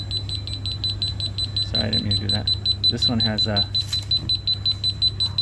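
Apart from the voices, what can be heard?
store security alarm beeping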